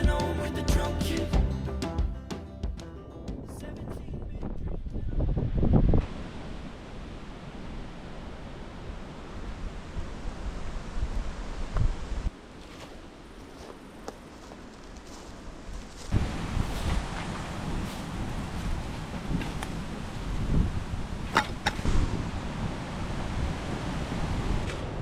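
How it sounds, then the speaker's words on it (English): Wind gusts roar over a volcanic landscape campsite in Warrumbungle National Park, a broad rushing noise with buffeting against the microphone that swells and drops across the stretch. "So we've set up the wall again to protect us from the wind."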